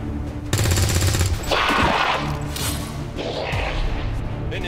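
Automatic gunfire bursts in XCOM Long War 2, a loud rattling volley near the start followed by heavy crashing impacts and swooshing effects, with game sounds continuing throughout.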